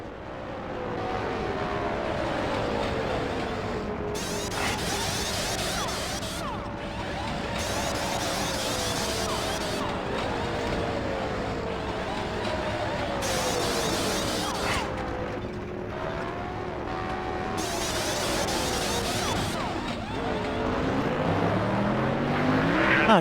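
Race cars roar steadily through a NASCAR video game pit stop, engines droning and shifting pitch with periodic bursts of brighter noise, continuous and fairly loud throughout.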